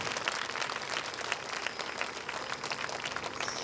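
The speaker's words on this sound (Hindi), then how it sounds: "आप सभी जो ताली बजा कर उनका अभिनंदन करें, स्वागत करें" An audience applauds a pandit on stage at a religious gathering, with steady, dense clapping from a fairly distant crowd that holds at an even level throughout.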